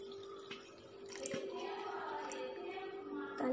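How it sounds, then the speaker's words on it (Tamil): Water is poured into a cooking pot in a home kitchen, a soft, continuous trickling and splashing with a brief louder gush near the end, fairly quiet and close, with no talk. "இப்போ தண்ணி கலந்துக்கிட்டோம்."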